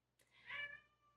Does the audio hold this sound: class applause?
no